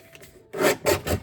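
Paper sheets are trimmed for a craft folio with three quick rasping strokes of a paper trimmer blade, close and distinct after a faint scrape, with no talking.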